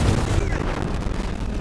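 Shotgun blasts in the open-world shooter Cyberpunk 2077, a dense, loud burst of booming gunfire at the start that quickly tails into continuous rumbling combat noise.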